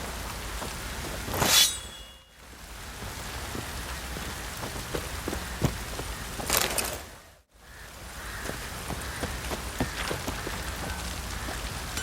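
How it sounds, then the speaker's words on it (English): Steady rain falling on surfaces in The Witcher 3: Wild Hunt, a dense, constant patter with two brief whooshing swells and momentary dropouts, fairly loud with no voices. "Looks like rain."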